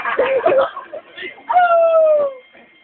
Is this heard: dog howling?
yes